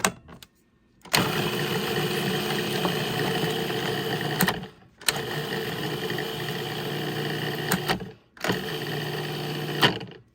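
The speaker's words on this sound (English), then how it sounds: "I'm going to pulverize them for, you know, until it turns into powder." Dried eggs being pulverized into powder in a blender, the motor whirring loudly in three bursts separated by brief pauses, close and with no voices.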